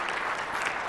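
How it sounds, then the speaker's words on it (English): An audience applauds a competitor at a tech startup pitch competition, a dense, steady patter of many hands clapping at once, sustained without pause for just under a second. "Big round of applause for Amanda, folks."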